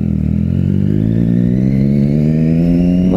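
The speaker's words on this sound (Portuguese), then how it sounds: "como hoje especialmente eu tô aqui com escapamento novo" Motorcycle fitted with a new exhaust revs steadily and loudly, its engine note climbing gradually in pitch over a few seconds, close by with no talking.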